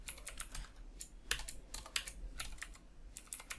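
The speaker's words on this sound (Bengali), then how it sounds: "আমি যদি এর ওপরে কোনো কোড লিখি" Brisk typing of JavaScript code on a computer keyboard, close and fairly loud clattering keystrokes in uneven bursts with short pauses, heard alone without speech.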